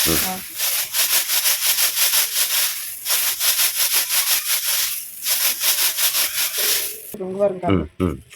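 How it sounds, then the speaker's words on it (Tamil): Ragi grain is swirled with water in a vessel, making a steady rhythmic swishing and scraping that repeats in waves for about seven seconds, then gives way to a few brief clinks and a voice at the end. "இப்படி அலசினா அடியில கல்லு நினைக்கும்"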